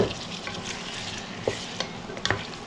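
Blanched, diced tomato stirs into a hot pan of frying butter chicken sauce, giving a steady sizzle with a few scraping knocks of the spoon, close and moderately loud, with no speech.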